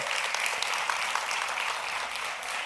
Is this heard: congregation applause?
yes